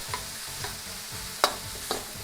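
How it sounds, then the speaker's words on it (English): Steady sizzling of pork stir frying in a pan with a few spatula scrapes and taps, close and fairly quiet, no voices. "Pan frying nicely."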